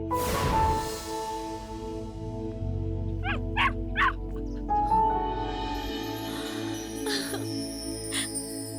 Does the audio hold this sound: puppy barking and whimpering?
yes